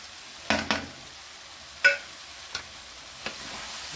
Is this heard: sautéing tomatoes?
yes